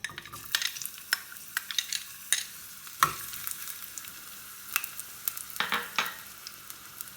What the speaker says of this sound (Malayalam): വെളിച്ചെണ്ണ ചൂടായിട്ടുണ്ട്. അതിലേക്ക് ഇനി ഉള്ളി ഇടാം.